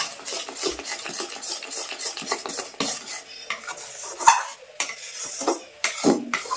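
A metal spoon scrapes and clatters against a pan in quick, irregular strokes as a kotkoti mixture is stirred after baking soda is added, with a faint sizzle beneath, close and without speech.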